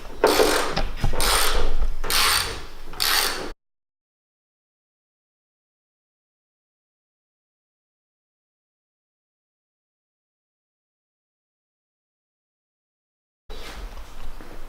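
A ratchet wrench undoes a 10 millimeter bolt while restoring carbon fiber parts, a close, rapid burst of ratcheting clicks for a few seconds, then silence, then a brief return of mechanical noise.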